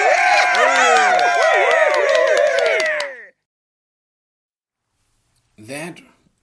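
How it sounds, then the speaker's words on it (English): Raucous applause and cheering from a crowd play as a sound effect, a dense burst of claps and shouts lasting about three seconds and then cut off abruptly. After a pause comes a brief, faint final bit of sound. "That raucous applause means two things."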